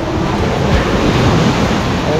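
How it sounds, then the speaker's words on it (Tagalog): Strong sea waves crash and roll onto the shore nearby, a loud, continuous surf roar with gusts of wind buffeting the microphone and no clear speech. "Oh, lakas ng alon."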